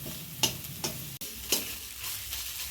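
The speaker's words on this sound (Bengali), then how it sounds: "এবারে এটা তেলে দিয়ে ভাজা ভাজা করে নিলেই একদম কড়াই থেকে ছেড়ে ছেড়ে আসবে" Gourd leaf paste frying in oil in a wok, a close, crackling sizzle broken by several scraping stir strokes at uneven intervals, with no talk.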